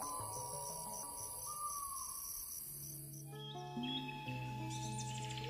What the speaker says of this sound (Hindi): रात में जंगल में सारी आवाज़ें बाहर आ जाती हैं। सारे कीड़े, रात में जागने वाले जानवर।